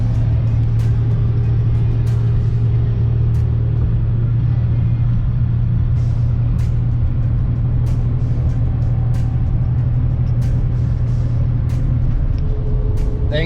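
A Dodge Dakota truck engine idles with a steady low rumble, close and continuous, while faint ticks and clicks sound over it and no one speaks.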